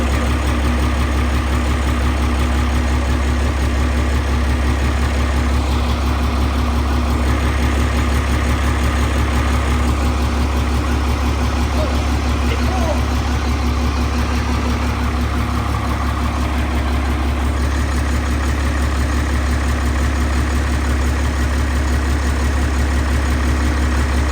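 A Cummins diesel engine swapped into a Squarebody truck idles steadily, a constant loud low rumble with no breaks.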